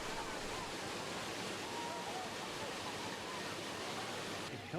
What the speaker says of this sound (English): At the end of the road are Balmuri Falls. The weir stretches 100 yards across the Cauvery River.